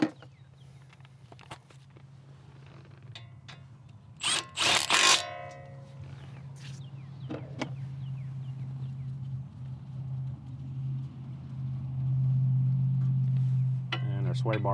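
A power tool tightening the ball joint pinch bolt on a Subaru control arm, heard as a brief loud burst in the middle, set against a low steady hum with scattered clinks and handling sounds.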